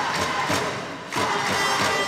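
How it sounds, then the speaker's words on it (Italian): A home crowd cheers and roars steadily at a women's Serie B2 volleyball playoff semifinal in Collegno, with a brief dip before the noise surges back up, loud and continuous. "Sentite il tifo per le ragazze di casa"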